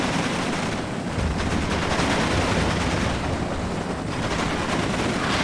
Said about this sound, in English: Let's watch some Hueys putting on fire.